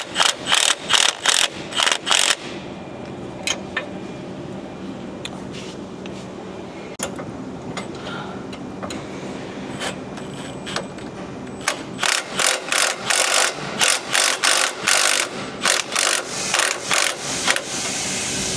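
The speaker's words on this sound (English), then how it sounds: "we're going to torque this to 20 foot-pounds" A ratchet torquing a bolt to 20 foot-pounds on a Ford Super Duty during a leveling kit install: loud, rapid clicking bursts at the start and end, with sparser clicks between, close up.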